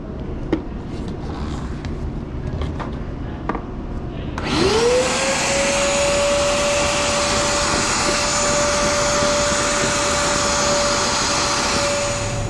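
Quiet background noise gives way to a vacuum motor switching on, spinning up to a steady loud whine with a rushing suction hiss as it sucks up water from a clogged air-conditioner drain line.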